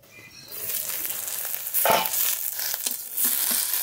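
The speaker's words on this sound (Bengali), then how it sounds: "এই পাতুরিগুলো খুব ভালো করে ভেজে নিয়েছি" Koi fish paturi frying in a pan gives a steady, close sizzle and crackle that runs throughout, with a brief louder burst of spitting midway and a few light scrapes.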